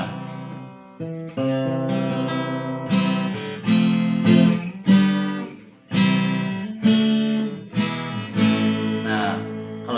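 An acoustic guitar in a music shop is strummed in a series of ringing chords, each attack clear and close, with short pauses between strums and no one talking.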